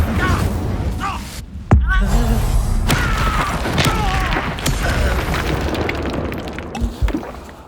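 The Incendio fire spell is cast in Hogwarts Legacy amid loud, busy combat: booming bursts, thuds and crackling effects follow one another over a constant low rumble.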